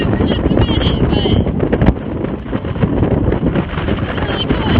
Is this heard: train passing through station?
no